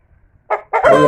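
A rooster crows loudly and close by. Its call starts with a short burst and then swells into the full crow.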